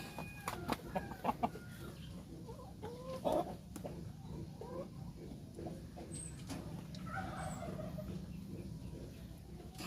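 Roosters on a gamefowl farm, including Rhode Island Red and White Kelso birds, cluck and call at moderate distance, with a few sharper bursts early on over a soft outdoor background.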